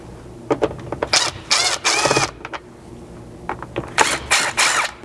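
A number 2 Phillips screwdriver, apparently a powered driver, backs screws out of the rear trim panel of a 3rd gen 4Runner. It comes in several close whirring bursts of varying length, separated by short pauses, with no talking.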